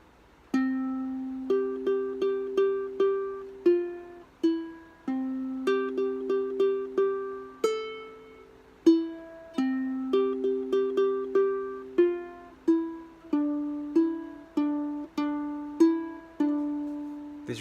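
A ukulele picks a song's intro alone, with clear, evenly spaced plucked notes that alternate between strings in a repeating pattern, each note ringing and decaying before the next.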